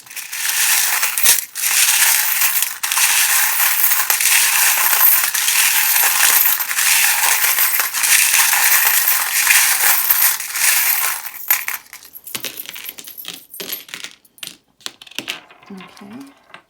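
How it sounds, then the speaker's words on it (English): Mostly metal charms get shuffled in a metal tin, a loud, dense jangling and clattering that runs continuously, then breaks into sparser individual clinks and rattles toward the end. "when I shuffle them, because they are mainly metal charms in a metal tin."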